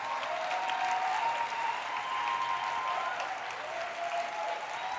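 Church congregation claps together in a sustained, dense round of applause, with a faint tonal whistle or cheer rising above the steady clapping for several seconds.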